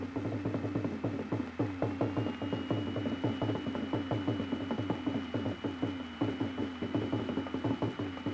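Factory machines carving cast iron car engine parts in Trenton, Michigan, a steady, fast ratcheting clatter of repeated mechanical strokes at moderate level, continuing evenly throughout with no voices.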